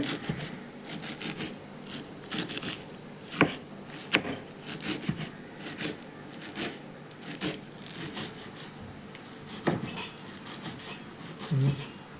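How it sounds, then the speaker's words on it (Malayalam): Knife chops finely through chaya (chayamansa) leaves on a board, a steady run of rapid scraping, thudding strokes with a few sharper knocks, close and mostly alone. "അപ്പം ഇല ചെറുതാക്കി അരിഞ്ഞുകൊണ്ടിരിക്കുകയാണ്"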